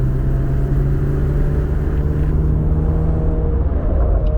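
Deep, steady engine rumble from a C8 Corvette Z06 pulling at low revs around 2,000 RPM, heard from inside the cabin as a continuous loud drone with no talking.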